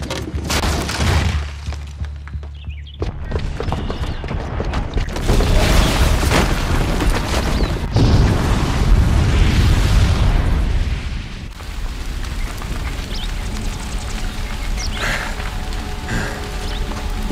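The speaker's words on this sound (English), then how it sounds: "the booby trap on the bomb downstairs is gonna get set off" A bomb goes off in the video game Horizon Zero Dawn as a loud, sustained rumbling blast with crackling debris, followed by continued heavy rumble and rain-like hiss.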